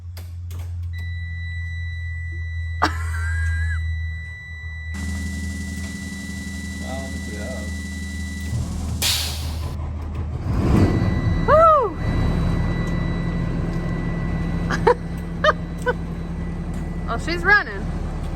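A converted school bus engine cranks and fires up, settling into a low, steady idle rumble, with a few electronic beeps and people talking nearby.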